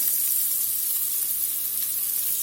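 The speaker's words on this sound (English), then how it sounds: "We'll cook these onions just about a minute." Diced onions sizzle steadily in a hot pan with pepper and salt, a constant, fairly loud hiss that holds evenly throughout with no talking.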